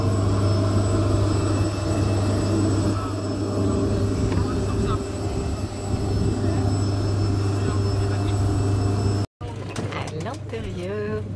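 A very small airplane in Fiji gives off a loud, steady engine drone with a deep hum throughout, cutting out briefly near the end before a shorter stretch of noise.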